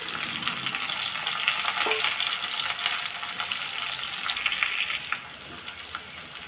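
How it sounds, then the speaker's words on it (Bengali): Bitter gourd and potato pieces fry in a pan with a steady, close crackling sizzle and occasional stirring clinks, heard alone with no talk. "করলাগুলো দেখুন ভাজা হয়ে গেছে, এরপর এটাতে আবার আলুগুলো অ্যাড করে দেবো।"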